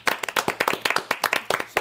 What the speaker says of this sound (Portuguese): Palmas a Jojo Todinho.